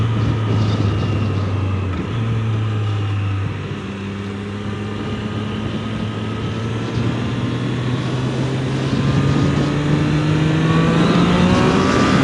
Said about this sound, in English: Do some rev matching here